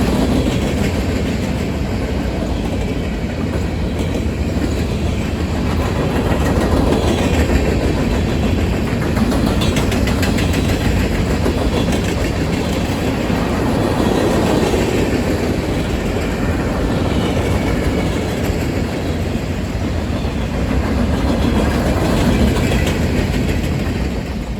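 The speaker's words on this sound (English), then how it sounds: "M363 is a mixed freight train, most popularly known for all its boxcars" A mixed freight train of mostly boxcars rumbles past nearby at Berea, loud and continuous, with rhythmic clattering of wheels over rail joints throughout.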